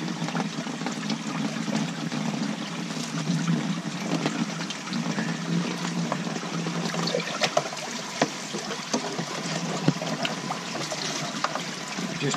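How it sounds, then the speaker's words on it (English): Water runs steadily through a filter as it is rinsed clean, a continuous close trickling and splashing with faint clicks and knocks, and no talk. "Just run it until the water runs fairly clean."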